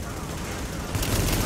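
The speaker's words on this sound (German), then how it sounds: "Ich hab gerade eine Bierflasche abgeschossen" Gunfire in The Division shooting a beer bottle, a short loud burst of rapid shots swelling near the end over a dense noisy background.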